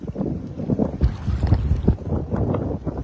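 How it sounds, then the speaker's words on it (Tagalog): Strong gusts buffet the microphone in rough, uneven bursts, with the wash of open water and a fishing boat beneath the roar. "Medyo humahampas pa yung hangin gawa ng medyo maingay kasi mahangin."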